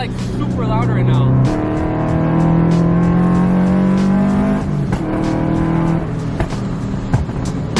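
Cars rev loudly and hold high engine tones, throaty and sustained with shifting pitch, while people talk over the noise.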